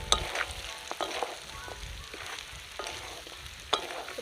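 Desi chicken curry stir-fried in a pan with no oil, a steady soft sizzle with scattered scraping stir clicks, close and fairly quiet, no talk.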